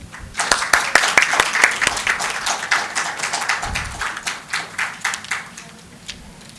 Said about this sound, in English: Let the applause going.